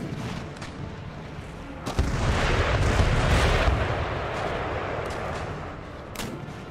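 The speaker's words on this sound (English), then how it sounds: "Oh, the brig exploded." A brig blows up during a naval battle in Empire: Total War, a deep rumbling boom that swells and then fades into continuing gunfire and battle noise.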